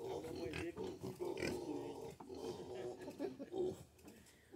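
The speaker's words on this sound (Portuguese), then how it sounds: "É porquinho da Índia." A guinea pig squeaking and chattering at a farm, close, uneven squeals and grunts running throughout with breathy noises and nearby movement.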